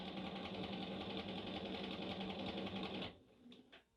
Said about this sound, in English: I'm going to sew along the rest of the unit in this ditch.